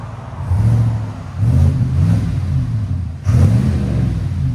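A car with a Flowmaster exhaust idles with a deep mellow rumble and is blipped three times, each rev swelling loud and close before settling back.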